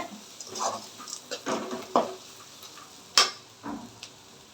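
Asafoetida and green chillies sautéing in a pan for semiya upma: soft sizzling with scattered spatula scrapes and taps, one sharp metallic clink standing out, close and fairly quiet, no talk.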